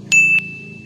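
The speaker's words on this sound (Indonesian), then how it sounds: "bunyikan lonceng" A single clear bell ding rings out brightly and then lingers as a steady fading tone over a low background hum.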